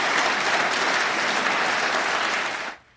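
A large crowd on the streets of Athens celebrating Greece's new same-sex marriage law, dense sustained applause filling the scene and then cutting off abruptly just before the end.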